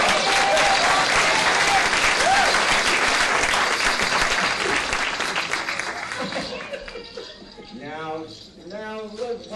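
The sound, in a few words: audience applause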